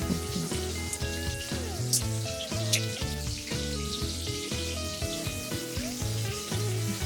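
Chopped onions sizzle steadily in hot oil for a dried fish curry, a continuous frying hiss that runs under prominent rhythmic background music.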